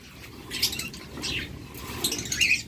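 Lovebirds or budgerigars in a breeding pair chirp in a busy cluster of high, bright calls, with brief fluttering, close by over a low background hum.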